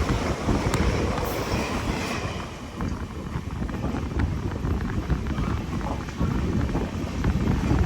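An empty rake of the Kerala Express approaches near Thiruvananthapuram North (old Kochuveli) station as a steady, close rumble of rolling coaches, mixed with wind buffeting.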